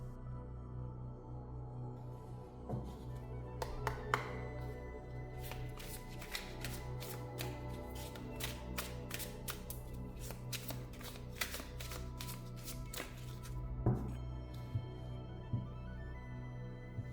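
A deck of tarot cards is shuffled by hand, riffling and flicking in quick repeated bursts, close and fairly quiet over a low steady background hum.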